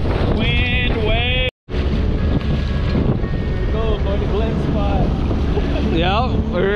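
Strong wind roars and buffets the microphone as waves slap around a small fishing boat on San Diego Bay during halibut fishing, a constant loud rush with voices faintly audible underneath.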